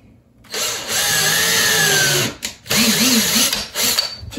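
Close, loud power drill making a pilot hole for a venetian blind bracket, one long steady whir and then a second shorter burst, with no talk.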